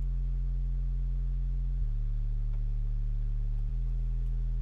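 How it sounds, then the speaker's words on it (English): Clean, undistorted synth bass holding sustained low notes, stepping down in pitch and then back up, smooth and steady with no grit. "So without the distortion, this is how the bass sound."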